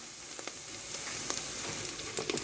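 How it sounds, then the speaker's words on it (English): Chopped garlic cloves sauté in olive oil, browning with a steady, close hiss of sizzling and a few sharp pops scattered through it. "garlic cloves chopped up, and they're in olive oil, sauteing until they are nice and brown"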